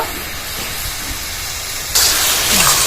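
Water splashed into a hot pan of fried Malabar spinach fruit with turmeric sets off a sudden loud, steady steam hiss, close by, following a quieter sizzle.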